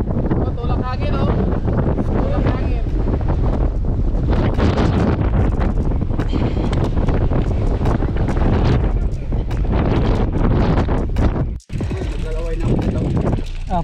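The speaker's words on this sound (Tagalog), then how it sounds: "Tulak pa lang ng hangin, oh." Strong gusting wind at the summit of Mt. Shamanseer (Baboon Peak) buffets the microphone in loud, continuous roaring bursts, with brief pauses, while hikers talk over it.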